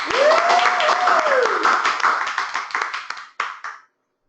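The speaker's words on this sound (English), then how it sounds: "I'm going to close with a round of applause for all of you and your hard work." Meeting participants clap together at the close of a Texas Balance of State CoC general meeting, a scattered round of claps over what sounds like a call connection, with a voice tone at the start and the clapping thinning out and stopping near the end.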